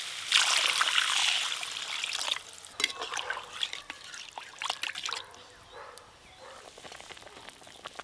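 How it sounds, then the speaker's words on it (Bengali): Water pours into a pan of frying kohlrabi and spices, a loud rushing splash and sizzle at first that settles into softer trickling and bubbling, close up. "এবার জল দিয়ে দেবো।"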